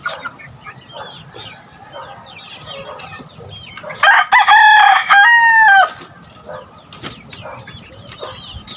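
A rooster crows loudly in one drawn-out call, with softer clucks and scattered rustling before and after it on an otherwise quiet farm.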